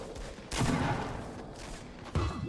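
LMG machine gun fire in the Fortnite video game comes in quick rattling bursts, a few sharp volleys over about two seconds at moderate loudness, with no talk.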